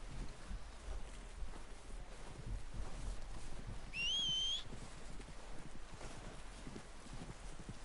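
Horse hooves clip-clop at a steady walking rhythm in Red Dead Redemption 2, moderately close, with a brief whistle partway through and no talking.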